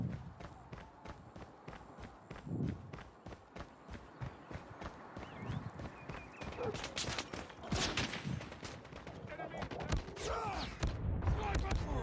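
Rapid gunfire in the Call of Duty Mobile game, a shotgun among the weapons, crackles in dense bursts of sharp shots under game noise and footsteps, growing busier and louder toward the end, with a voice speaking briefly.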